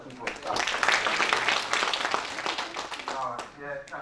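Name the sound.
applause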